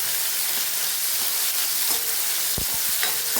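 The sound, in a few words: stirring chopped tomato into a frying pan for sev tameta curry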